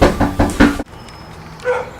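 A dog barks three times, loud and close in a quick series, and then the sound cuts off to quiet room tone. A faint sound follows near the end.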